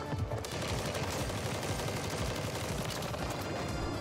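Rapid continuous automatic gunfire in Call of Duty Warzone on the Urzikstan map, a steady dense rattle of shots heard fairly quietly without talk.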